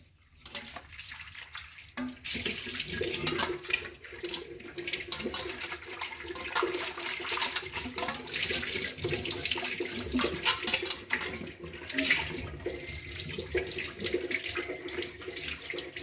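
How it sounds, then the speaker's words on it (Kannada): Tap water runs steadily over an old steel plate being rinsed clean in a sink, a continuous splashing wash with slight changes as the plate moves under the stream, no voices. "ಈಗ ನೋಡಿ, ಇದನ್ನ ಕ್ಲೀನಾಗಿ ತೊಳೆದು ತೋರಿಸ್ತಾ ಇದ್ದೇನೆ."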